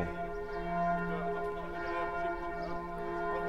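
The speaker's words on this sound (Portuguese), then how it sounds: "nossa, o sino toca de verdade" A restored church bell in Saint-Malo, France rings with a sustained, humming metallic resonance, its overtones lingering steadily at moderate loudness from some distance.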